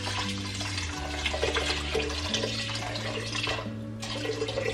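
Water pours from a jug over rice in a rice cooker, a continuous close splashing gurgle lasting several seconds with shifting tones as the level rises, with no talking.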